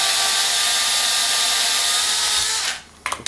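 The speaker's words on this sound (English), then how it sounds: "As usual, we drill out the rivet post." A power drill drilling out a rivet post on a Hot Wheels toy car whines loudly and steadily for nearly three seconds, then cuts off, followed by a few sharp metallic clicks.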